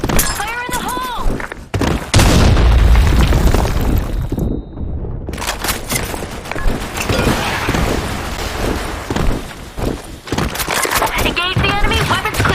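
Grenade blasts and gunfire crash and boom in a sandstorm-map online shooter, with a deep explosive thud early on and broken, clattering impacts throughout, while players shout over the combat.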